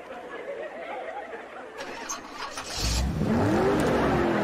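A car in the Chaves 3D game is driven away from Faustão: after a stretch of background chatter, an engine suddenly roars up, revving loudly and rising in pitch as it pulls off.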